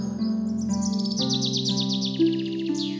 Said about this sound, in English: a colorful bird flew above her